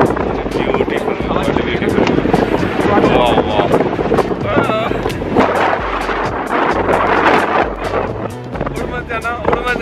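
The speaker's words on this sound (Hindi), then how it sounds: "यहाँ पे इतनी तेज हवा है कि बंदा उड़ सकता है" Strong wind at Tiger Point, Lonavala, a hill viewpoint, roaring and buffeting the microphone steadily and loudly throughout, with a voice partly buried beneath it.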